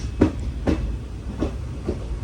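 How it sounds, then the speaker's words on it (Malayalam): Express train rolling slowly into Mangaluru Junction railway station in Karnataka, heard from on board as a low rumble with evenly spaced heavy thumps of wheels crossing rail joints, close and moderately loud. "ഞങ്ങളിതാ ഇപ്പോൾ മംഗളൂരു ജംഗ്ഷൻ റെയിൽവേ സ്റ്റേഷനിലേക്ക് എത്തിക്കൊണ്ടിരിക്കുകയാണ്"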